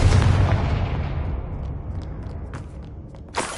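Confringo fire spell in Hogwarts Legacy: a single loud booming explosion that rolls and decays over several seconds, with faint crackles in the tail and a short crunch near the end.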